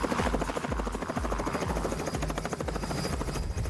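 A helicopter in flight thuds with steady, rapid rotor beats and a constant engine whine, loud and close, as if heard from inside the cabin.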